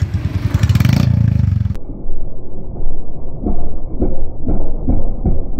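A motorcycle being taken out after Holi play, its engine rumbling loud and close for several seconds, with a clattering start and then repeated throttle blips.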